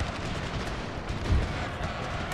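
Gunfire in a Total War battle game set in the Thirty Years War, with dense volleys of musket and cannon fire crackling and booming continuously at a distance.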